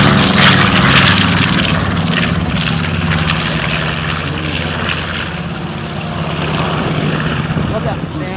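A T-34 propeller airplane flies past at an airshow at Miramar, a loud, continuous engine drone and propeller roar filling the air, with voices in the crowd beneath it.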